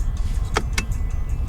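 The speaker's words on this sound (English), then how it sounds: "You have your parking brake." Parking brake of a 2020 Mercedes-Benz GLC 300 4MATIC engaging inside the cabin: two short, soft clicks close together over a low, steady interior hum.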